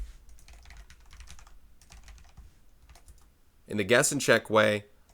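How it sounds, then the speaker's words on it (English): Rapid key clicks come from a computer keyboard during a math lesson, light and close at first, then a louder burst of dense typing as a voice speaks over it. "before I keep typing"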